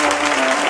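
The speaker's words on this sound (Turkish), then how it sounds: "Ödülü kazanan Analiz Eğitim Kurumları Yönetim Kurulu Başkanı Sayın Derya Emre'yi alkışlarınızla sahneye davet ediyoruz." Loud, dense audience applause at an award ceremony fills a brief burst, many hands clapping at once, close and continuous.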